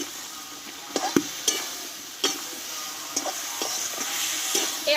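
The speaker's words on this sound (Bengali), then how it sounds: "এবারে কষে রাখা আলু আর সেদ্ধ করা এঁচড়টা আমি একসঙ্গে ঢেলে দেবো একসঙ্গে ভালোভাবে কষিয়ে নেবো" Boiled jackfruit and potatoes are stirred with spices in a pan, a low sizzle broken by several sharp scrapes and knocks of the spatula against the metal.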